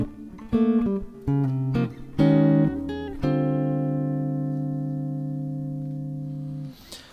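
Clean electric jazz guitar comps chords over Rhythm Changes with the original changes, a few short stabbed voicings followed by a long sustained chord ringing out and fading, played alone.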